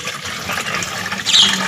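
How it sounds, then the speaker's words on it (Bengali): About a mug of water is poured into a strained homemade remedy mixture for fruit tree blight, a close continuous splashing pour that swells briefly near the end. "এক মগ জল দিয়ে দেবো এটাতে"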